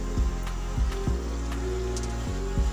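Heavy monsoon rain falls steadily outdoors, a constant close wash of drops with a few louder thumps and knocks breaking through at intervals.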